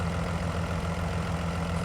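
A tractor engine idling in the video game Farming Simulator 19, a steady, continuous low mechanical drone with no change in pace, loud and alone.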